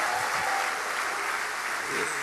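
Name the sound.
congregation clapping in church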